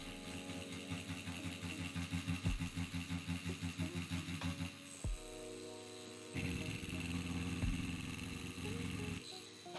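A tattoo machine buzzing while shading a portrait, a steady mechanical hum that pulses rhythmically, stops briefly, then resumes as a continuous drone, with no voices.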